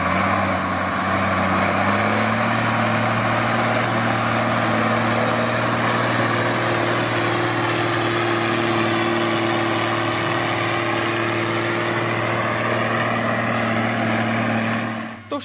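A tractor's six-cylinder turbocharged 6.8-litre 160 hp engine runs steadily, close and loud, with a deep, even hum and a faint high whine above it, continuing without talk until it cuts off at the end.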